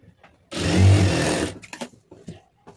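A sewing machine runs a single steady burst of about one second while stitching the lining seam of a blouse, loud and close, followed by a few soft handling clicks and rustles as the fabric is moved.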